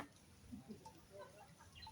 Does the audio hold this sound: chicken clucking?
yes